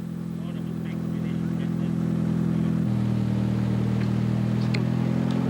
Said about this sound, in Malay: keadaan bunyi enjin pun tidak begitu baik.